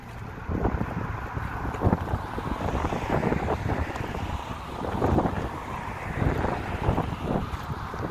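Steady outdoor wind buffeting the microphone during a bike ride, a continuous low rumble with gusty surges throughout, no talking.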